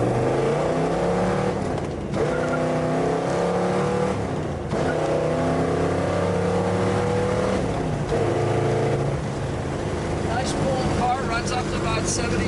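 A 1966 Chevrolet Chevelle accelerating on the road, its engine climbing through the gears in repeated rising pulls with brief dips at each shift, loud and close from inside the car.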